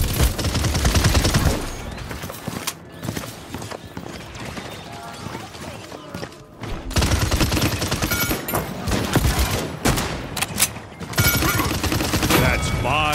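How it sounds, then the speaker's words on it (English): Rapid gunfire in the hero shooter game Paladins, with loud, dense bursts of shots and impacts that continue almost without a break and dip only briefly mid-fight. "They're shooting at me."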